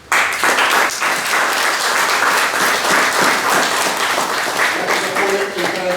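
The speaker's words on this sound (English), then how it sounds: "please, another round of applause" An audience applauds a poet at a library open mic and poetry night: a sustained burst of dense clapping fills the room, loud and steady, with a voice speaking over the final moments as it tapers.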